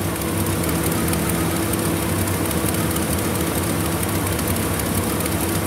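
A loud engine with an exhaust leak idles steadily nearby with a continuous rough, raspy drone and no talking.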